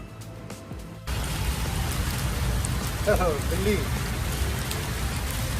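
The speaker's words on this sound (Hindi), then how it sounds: "आज हम लोग यहाँ पे शूट कर रहे हैं और बीच में ही बारिश आ गया है।" Steady rain pours down at Jantar Mantar in Delhi. A dense, even hiss of falling water starts abruptly and continues throughout, while a voice speaks over it.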